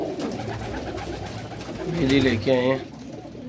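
Grey pigeons coo nearby in soft, throaty warbles, two distinct calls near the end, while someone talks over a busy outdoor background.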